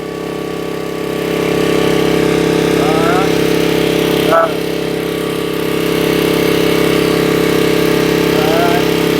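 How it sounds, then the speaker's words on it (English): Portable generator running close by: a loud, steady engine drone that holds throughout, with a brief click near the middle and a few faint bird chirps over it. "So our generator here now."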